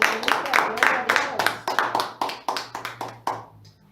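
A church congregation applauding, heard as a series of sharp, distinct claps in a fairly steady rhythm over a low background hum, thinning out and stopping near the end.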